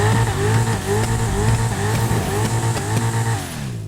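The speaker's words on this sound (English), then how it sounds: "what we have here is the Dinka Jester, and can you tell I quite like the noise it makes" Dinka Jester sports car in GTA Online, its engine revving hard with rising and falling pitch through gear changes, loud and close throughout.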